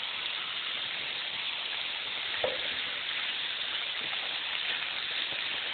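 Chicken breast halves sizzling in a Dutch oven with bacon and a little butter, a steady close hiss of frying fat with one brief knock of something set in partway through.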